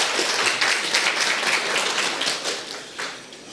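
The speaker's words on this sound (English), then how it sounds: "I think the Minister deserves a bigger round of applause" Applause for a government finance minister at a formal media launch, dense steady clapping from a seated audience, moderately loud and continuous without any voices over it.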